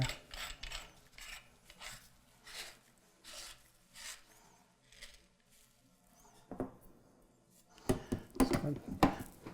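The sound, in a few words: assembling and tightening parts of Homeleader meat grinder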